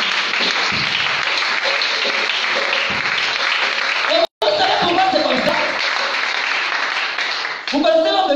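A church congregation claps and cheers in loud, dense applause that fills most of the stretch, with voices mixed in. It cuts out briefly, then swells again before ending.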